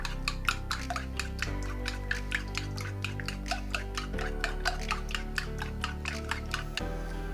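Potato mixture with a pinch of salt beaten in a bowl, quick, steady clicking taps of a utensil against the bowl in a fast regular rhythm under a low background hum.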